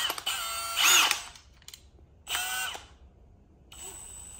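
A Milwaukee cordless drill whirs in three short bursts, the first two revving up and down over about a second each, the last brief, close and loud against a quiet room.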